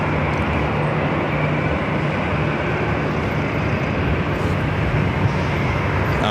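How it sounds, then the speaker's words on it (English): A Delta Airlines Airbus A321neo jet passes at LAX, giving a steady, loud broadband roar that holds level throughout with no pauses. "This flight heading to Vegas, Delta Airlines Flight 1696. It's A321 Neo."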